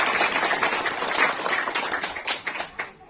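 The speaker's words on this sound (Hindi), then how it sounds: "जोरदार ताली बजाएंगे।" A church congregation at a Hindi and Kokborok gospel sermon breaks into loud, dense applause, many hands clapping steadily and filling the room before it thins and trails off with a few scattered claps.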